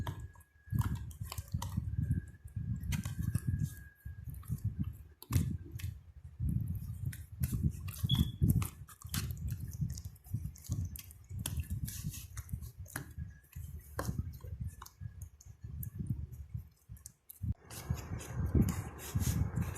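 Galaxy slime from a DIY kit being stirred with water, giving repeated wet squishing and sticky clicking sounds, close and fairly loud, steady throughout with no talking.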